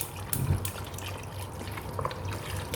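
Water poured into a large pot for a bamboo shoot curry, a soft close trickle and splash with a few drips over a low background hum.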